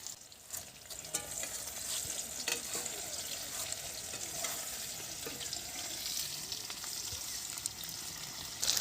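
Tomatoes frying in oil give a quiet, steady sizzle with faint stirring scrapes and small clinks, close by and continuous, with no one talking.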